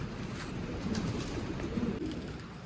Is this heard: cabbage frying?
no